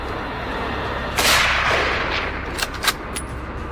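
Rifle shots fired at wild boars on a wooded mountainside, a sharp report followed by a rolling echo and then a couple of quicker cracks, loud and outdoors over steady background noise.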